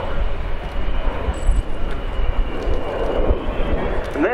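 Su-27P jet fighter making a slow display pass at an air show with its large dorsal air brake extended, a steady loud roar of jet engines while a commentator talks over it.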